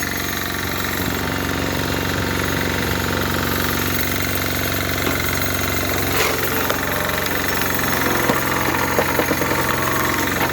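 A log splitter working on a log, its engine running steadily and loud throughout with hard knocking, hammering strokes and strain noises over the continuous drone.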